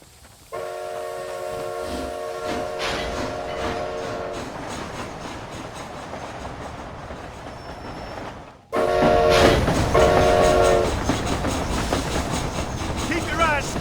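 A moving train in the video game Red Dead Redemption: Undead Nightmare rumbles loudly and steadily, with repeated horn blasts sounding early and again after a brief cut, and the clatter swelling louder in the second half.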